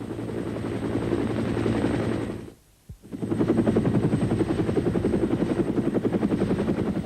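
A military helicopter flies close by with a loud, steady rotor thump, which drops out briefly in the middle and then comes back at full strength.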